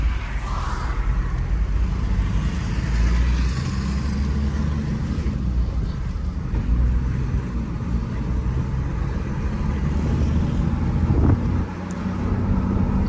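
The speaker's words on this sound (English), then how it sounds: "this diesel making a lot of noise" A low, steady diesel engine drone from a Toyota Land Cruiser 105 Series on the move, with constant road and wind rumble filling the clip and no speech.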